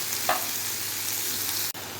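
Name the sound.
tomatoes and spice powder sautéing in pan for chicken kurma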